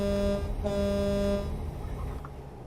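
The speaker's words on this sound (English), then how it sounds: "Honk if you're happy." Truck horn in American Truck Simulator, a single loud sustained honk lasting about a second and a half with a brief break near the start, then fading into engine rumble.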